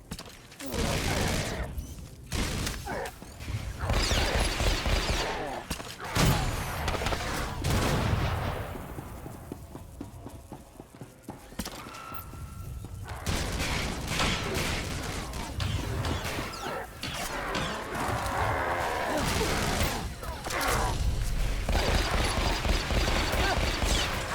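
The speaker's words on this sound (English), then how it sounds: "We're surrounded by sky troopers down here, detonating ion bombs. Listen to them pop." Ion bombs detonating during a Star Wars: The Old Republic battle, with rapid popping blasts and gunfire-like bursts filling most of the stretch, loud and dense, under occasional voices.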